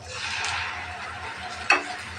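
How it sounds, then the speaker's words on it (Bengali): Quiet sizzling of onions and spices frying in a pan for chicken and potato curry, with a brief scrape or clink of a utensil near the end. "পেঁয়াজটা ভাজা হয়ে গেছে দিয়ে দেব মশলা"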